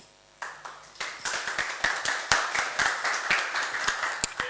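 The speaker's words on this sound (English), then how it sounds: "Please welcome him with a round of applause." A conference audience breaks into applause for a data science speaker, starting after a short quiet moment and building into a run of distinct, fairly close claps that carry on to the end, with no voices.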